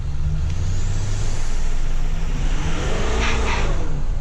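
A 2008 Chevy 3500HD with the 6.6 LMM diesel and a straight 4-inch exhaust drones loudly and steadily from inside the cab with the window down, a deep rumbling exhaust note holding constant throughout.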